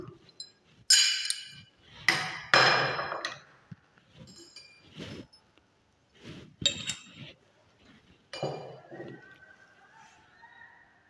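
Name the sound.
glass rod and conductivity cell clinking in solution glassware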